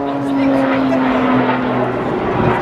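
Jet engines of an aircraft performing at an air show roar steadily at a distance with a sustained droning whine, while a voice talks over the top throughout.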